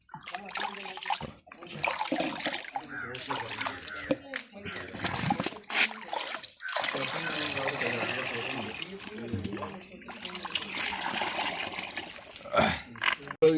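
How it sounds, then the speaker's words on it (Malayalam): Water is poured onto tomato plants in a garden, an uneven splashing and trickling that comes and goes over about thirteen seconds while a person talks over it. "തക്കാളിക്ക് ഒഴിച്ചു കൊടുക്കുവാണേ ഇവിടെ ഉണ്ട് തക്കാളി"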